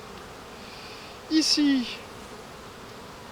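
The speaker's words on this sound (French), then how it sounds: "et plus il va y avoir d'abeilles." Honey bees swarm on the frames of an opened nucleus hive holding a weak colony, giving a short burst of close buzzing with a brief whine, heard alone against a low steady background.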